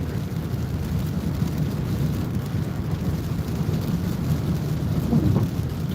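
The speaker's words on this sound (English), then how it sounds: "The rain's picking up now." Rain falls steadily over a dense, even hiss with a low rumble underneath, as if heard from inside a moving vehicle, with no talking.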